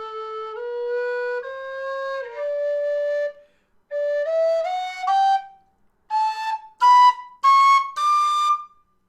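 A Goldfinch two-piece low D tin whistle plays a slow melody of sustained notes, rising in pitch toward the end, clear and close with brief pauses between phrases.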